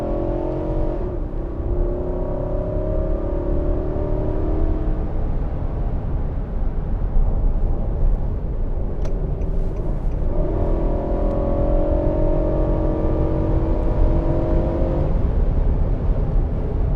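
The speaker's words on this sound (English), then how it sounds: "That's the beauty of this V8. It's always pulling at the higher RPMs." A 2020 Nissan Armada Platinum SUV with a V8 engine accelerates on the road. Inside the cabin the engine note climbs in two long, loud pulls under steady road and wind roar, with a brief shift between them and no talking.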